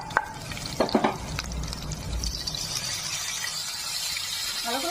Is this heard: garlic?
yes